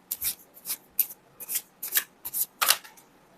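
Tarot cards being shuffled before a draw, with about eight quick papery riffling bursts in an even rhythm, close and fairly quiet, and no one talking.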